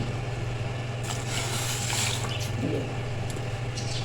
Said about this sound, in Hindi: इस स्टेज पर हम इसमें ऐड करेंगे 2 गिलास ठंडा पानी।